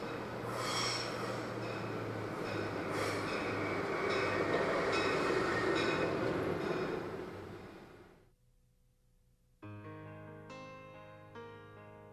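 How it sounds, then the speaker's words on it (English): A Federal Railroad Administration T10 track inspection railcar rolls past on the BNSF line near Stevens Pass, a loud rumbling rush that fades, then gives way to a steady tonal sound with a few sharp bursts. "the Federal Railway Administration's T10 railcar passed by on a track inspection visit"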